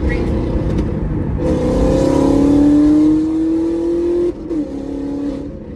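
A car driving around a corner at a Cars & Coffee meet, its engine rising in pitch, then easing off, passing fairly close, with people talking over it.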